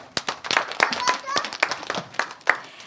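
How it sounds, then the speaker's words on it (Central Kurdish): A group of children claps in quick irregular bursts, the claps overlapping into a scattered patter close by while young voices chatter and call out over it. "چەپڵە بۆ من"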